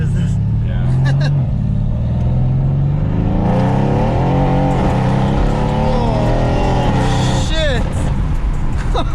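A Mercedes-AMG W205 C63S V8 revs hard and loud up close, its roar climbing and falling through several sweeps, with excited voices shouting over it.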